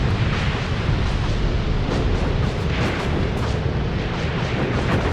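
Artillery shells bursting in a WW2 battle game as American mobile artillery pounds German tanks, a dense, continuous roar of rumbling blasts, loud and close with no clear separate hits.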